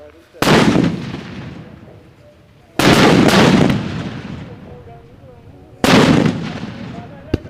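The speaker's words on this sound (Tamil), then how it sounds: "அடுத்ததாக வந்து பார்த்தீங்கன்னா தோரண கொண்டு வந்து வெடிக்க போகிறோம்" A string of firecrackers (thoranam) tied up with rope in a village goes off in three separate loud, sharp blasts spaced a few seconds apart, each trailing into a fading rumble.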